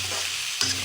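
A spice paste and greens stirred and fried in a pan, with a brief close sizzle and a single scraping stir near the end.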